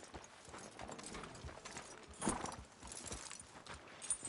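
Horse hooves clip-clop steadily in a PS4 video game as a mounted horse sets off on a ride, a continuous rhythmic trotting with a louder thump partway through.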